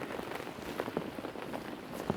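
Steady rain falling at Willesley Lake, a carp fishing venue, a constant soft hiss of drops on surfaces close by, with a few brief louder patters and no talking.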